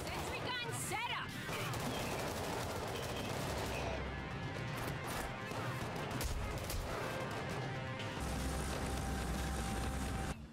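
Sentry gun fire in the game Payday 3 comes as dense, continuous bursts of rapid gunshots mixed with blasts and other battle noise, loud and unbroken throughout.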